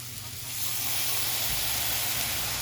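Garlic hits hot oil alongside squid, ginger and onion, giving a steady broadband sizzle that swells after the first half-second and holds loud and even to the end, with no talking over it.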